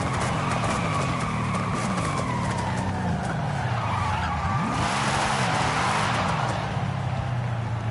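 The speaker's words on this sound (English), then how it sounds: "The Coyote engine is insane." Ford Coyote V8 engine in a Forza Horizon car meet, loud and close, revving and droning steadily with tire skidding and squeal over continuous engine noise, no talk.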